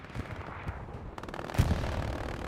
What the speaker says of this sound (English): Artillery shots coming in, protecting the southern advance.